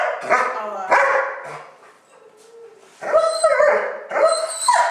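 An anxious dog barks at people nearby, sharp high-pitched yaps in two clusters separated by a short pause, tense and agitated.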